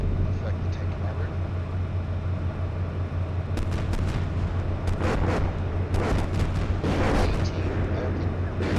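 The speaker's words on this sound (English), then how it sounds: "Better stay buttoned up so that the artillery doesn't affect the tank commander." Artillery fire in the tank simulator Steel Beasts Pro PE, set during a Russian invasion of northeast Ukraine: a steady low engine drone with a run of sharp, crackling bursts in the second half, accompanied by talk.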